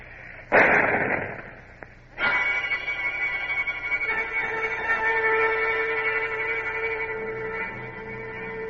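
A ship's signal gun fires with a sharp, loud report that is followed by a second blast, then a long rumbling, ringing decay that fades slowly.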